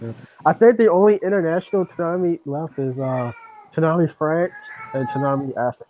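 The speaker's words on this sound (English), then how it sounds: "Is that the cat? That's the cat." A cat meows among bursts of people talking, its cries mixed in with the conversation.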